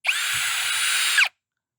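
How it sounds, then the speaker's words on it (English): A power drill whirs steadily for just over a second, driving a screw into wood for a nursery bench, with a brief rise in pitch at start and finish. "pre-drive a couple of our screws"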